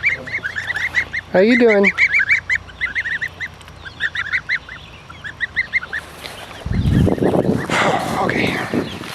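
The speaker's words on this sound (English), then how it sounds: "How you geese doing, huh?" Several geese honk repeatedly nearby in bursts, and someone speaks briefly over them before a rush of louder noise near the end.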